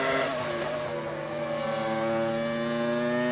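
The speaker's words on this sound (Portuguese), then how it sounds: "Agora há pouco você ouviu o desempenho do carro, do motor Ferrari." A Formula 1 race car with a Ferrari engine screams at high revs at the French Grand Prix, a loud, steady, slightly shifting whine held throughout.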